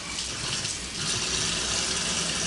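Tap water runs steadily into a kitchen sink while a jumbo shrimp is rinsed, making a continuous close hiss and splash with no voices.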